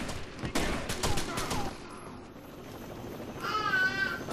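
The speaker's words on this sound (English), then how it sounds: "I shot him a couple times just because I could." Gunfire in the Rainbow Six Vegas 2 video game, a few sharp loud shots in quick succession early on, then fading into a quieter background with brief chirping tones near the end.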